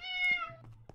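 Cat meowing in Minecraft, a single clear, fairly close meow lasting about half a second, followed by a few faint soft clicks and shuffles.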